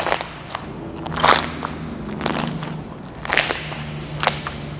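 Squishy slime being grabbed and slowly pulled apart, giving a few soft crackling, popping bursts at close range over a low steady hum, with no talking.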